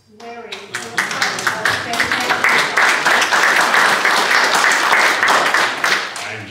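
Meeting attendees applaud a man named Larry, a dense burst of many hands clapping that swells in the first half second and holds steady and loud until the end, with a voice briefly audible at the start.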